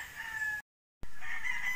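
A rooster crows nearby in two separate bursts, the drawn-out call briefly interrupted by a gap of silence.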